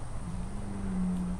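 A cat gives a low, drawn-out moo-like call, one steady droning note lasting about a second, fairly close over quiet background with no talk.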